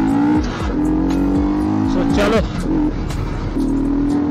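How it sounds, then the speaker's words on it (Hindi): A Yamaha R15 motorcycle with a modified loud exhaust revs hard in Kashmir, its engine roaring up and down in several strong, close bursts while someone talks over it. "बाइक देख लो कि साउंड क्या दे रही है"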